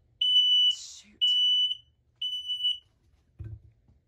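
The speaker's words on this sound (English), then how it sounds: "Oh, I kicked the carbon monoxide detector." A carbon monoxide detector inside a 2023 Merhow four-horse living-quarters trailer sounds three loud, piercing beeps in a steady on-off pattern, followed by a short low thump near the end.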